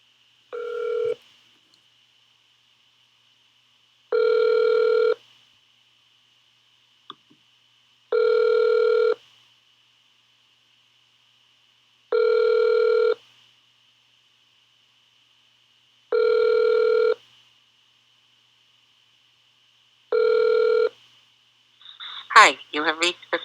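A telephone ringback tone sounds six times at steady intervals of about four seconds while an office is being called, clear and alone until a voice picks up at the end.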